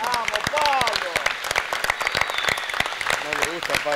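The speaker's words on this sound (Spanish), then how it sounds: "Gracias al líder de, este patio, que es el señor Pichintines, con un gran aplauso" An outdoor community event crowd in Comodoro Rivadavia applauds steadily, dense clapping running the full length with voices calling and cheering over it.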